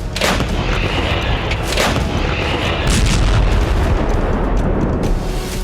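M777 light howitzer artillery firing, a loud sustained barrage of booming reports and sharp cracks that keeps rolling with no quiet gaps.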